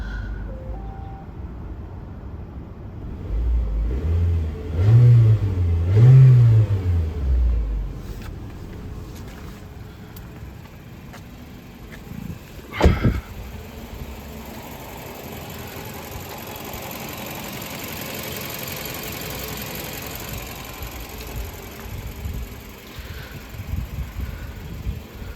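A 2004 Toyota Noah 2.0L van engine cranks and starts, swelling briefly before settling into a quiet, steady idle with a low hum and a short bump partway through.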